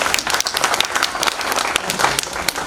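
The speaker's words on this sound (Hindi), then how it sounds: "एक बार थोड़ी सी तालियां बजा दीजिए।" An audience at a Hindi comedy poetry show applauds, a dense, even wash of many hands clapping together, loud and close, sustained for a few seconds.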